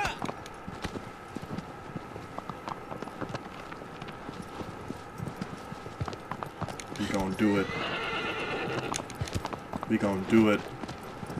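A horse's hooves clip-clopping at a gallop in Shadow of the Colossus, rhythmic and steady throughout, with whinnies and neighs breaking in near the middle and end; someone speaks briefly over the hoofbeats.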